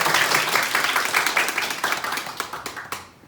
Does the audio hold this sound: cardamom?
no